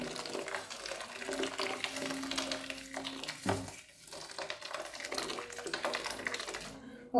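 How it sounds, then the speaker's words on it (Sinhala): Boiling hot water is poured over string hoppers in a kitchen, a continuous close splashing and trickling stream that runs for several seconds with a brief dip midway. "දැන් අපි හොඳට නටන උණු වතුර මේක පොඩ්ඩක් වැහෙන ගානට වගේ එකතු කරගන්න ඕනේ"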